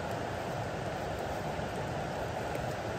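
Rain falls steadily during mushroom foraging outdoors, a constant, even hiss of drops that stays at the same level throughout with no voices.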